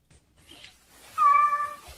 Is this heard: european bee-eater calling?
no